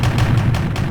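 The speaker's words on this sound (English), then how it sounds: "Look at all those guns firing." Guns firing in the War of K video game, a loud, dense volley of overlapping shots and booms forming a constant heavy rumble with sharp bursts every fraction of a second.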